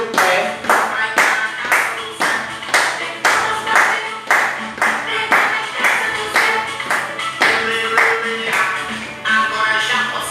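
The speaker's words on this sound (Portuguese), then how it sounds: "Palmas, bater o pé." Hand clapping with foot stamping in a steady rhythmic pattern, sharp close claps repeating about twice a second for the whole stretch, with no talk over them.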